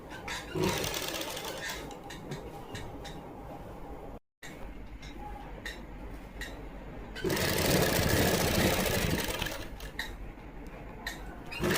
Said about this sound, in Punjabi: ਆਪਾਂ ਇੱਥੇ ਸਲਾਈ ਲਗਾਵਾਂਗੇ ਸੈਂਟਰ ਜਿਹਾ ਚ ਲੈਸ ਤੇ ਸਲਾਈ ਲਗਾਵਾਂਗੇ